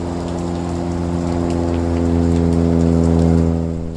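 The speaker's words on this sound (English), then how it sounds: "for some reason it's raining" Steady rain falling during a wet November outing in Colorado, a continuous hiss under a constant low droning hum, with no talk.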